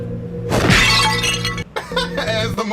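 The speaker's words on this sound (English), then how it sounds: "As the most generic fucking glass breaking sound in history." A glass-shattering effect from a video game crashes out loud over busy game music and other effects, with a bright burst of breaking glass followed by continuing in-game sounds.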